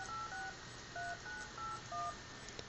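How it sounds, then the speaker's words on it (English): A desktop calling app plays telephone keypad dialing tones, a string of about eight short dual-tone beeps in an uneven rhythm, clear and alone with no voices. "enter the phone number of the person you wish to dial here by tapping on the numbers or by entering them with your keypad"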